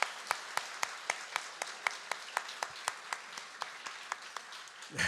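A church congregation claps together in blessing for parents and elders at a Sunday service, a steady run of sharp, evenly spaced claps across the whole stretch, fairly close and clear with no talk over it.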